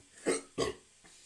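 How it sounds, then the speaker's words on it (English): Two short, throaty burps in quick succession after sipping a carbonated London mild ale, close to the mic, with a faint third gulp trailing off. "Lovely carbonation, lovely burp."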